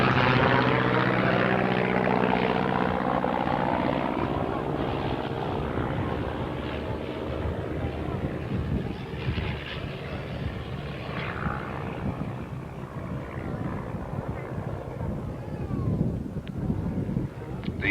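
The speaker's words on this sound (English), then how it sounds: "Here comes the Gemini, very pretty aircraft." A Miles Gemini light twin-engine aircraft, built at Woodley, flies past at a 1986 Cranfield air show, its propeller drone loud and steady at first, then slowly easing and fading as it moves away.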